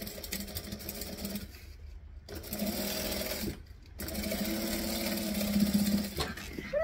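A sewing machine stitching a bag closed runs in bursts of rapid needle chatter, broken by two short pauses, close and moderately loud with no talk.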